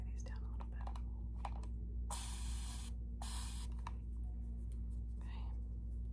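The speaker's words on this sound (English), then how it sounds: "I have some micellar water in this spray bottle" Two short bursts of micellar water from a spray bottle hiss, each about a second long, over a steady low hum with faint handling clicks and quiet whispering.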